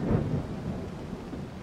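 A thunderstorm at sea in Assassin's Creed Odyssey, with a low thunder rumble at the start over a continuous hiss of rain and wind, dense and steady with no speech.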